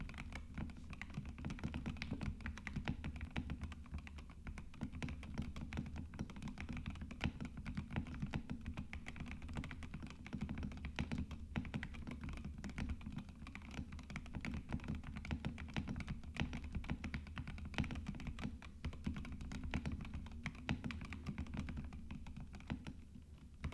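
Rapid, continuous typing on a Dustsilver K84 budget mechanical keyboard with deep, thocky switches, dense overlapping keystrokes close up with occasional heavier thunks from larger keys and no speech.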